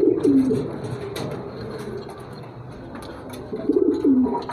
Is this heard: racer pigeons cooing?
yes